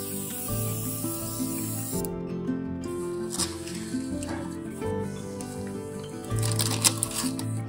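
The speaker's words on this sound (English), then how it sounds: "Now the airbrush is going to come in handy." Airbrush spraying stone-colored paint over an HO scale model church, short hissing bursts broken by brief pauses, with light clattering handling noises mixed in.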